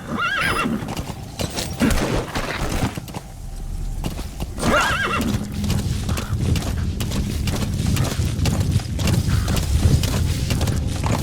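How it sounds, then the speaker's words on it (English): In the video game Metal Gear Solid V, a horse gives several loud neighs and whinnies over steady clip-clopping hooves, with faint mechanical noise in the background. "Use your horse."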